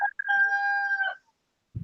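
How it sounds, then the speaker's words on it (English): A rooster crows once, a long sustained cock-a-doodle-doo that is clear and fairly close, followed by a short low thump, with no talking. "the rooster agrees"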